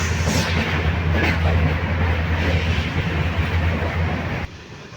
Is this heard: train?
yes